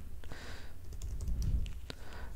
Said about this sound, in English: If you want to hide the command line, just simply type